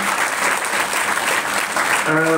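Loud, steady applause from a crowd at a silver-jubilee SSC practice exam ceremony by a charitable trust in Navi Mumbai, honouring Dr. Prakash Rathod; dense clapping fills the whole stretch, with a voice starting to speak over it near the end.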